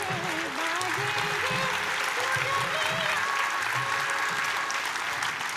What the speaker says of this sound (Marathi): आपण जोरदार टाळ्यांचा गजर करूया ते आसनस्थ होईपर्यंत